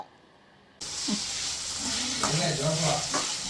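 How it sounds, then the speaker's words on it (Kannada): Chicken biryani ingredients hit hot oil, setting off a sudden loud, steady sizzle after a quiet start, with scraping stirs and faint voices underneath. "ಸೊ ಇದು ಚೆನ್ನಾಗಿ ಫ್ರೈ ಆಗಿಬಿಡ್ಲಿ."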